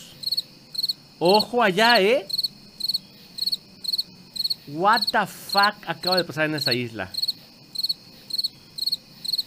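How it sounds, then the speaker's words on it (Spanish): Regular pulsing video game cricket chirps repeat throughout, while someone talks loudly in short excited bursts over them. "Ya no me siento solo con los grillos."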